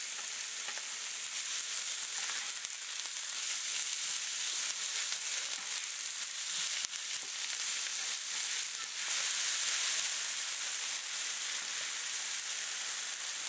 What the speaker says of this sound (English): Let this cook from 3 to 5 minutes until the onions become soft and the tomatoes start to wilt